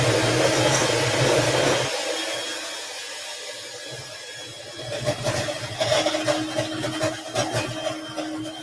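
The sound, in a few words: electric hand mixer beaters mixing cookie dough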